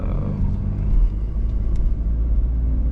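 Steady low engine rumble of a BMW 1 Series driving, with continuous road noise and a faint whine; no talking.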